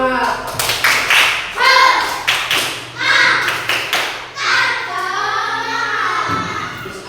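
A classroom of students performs a rhythmic spirit clap, sharp group claps in a patterned beat mixed with chanting young voices, close and lively, with a teacher's voice nearby.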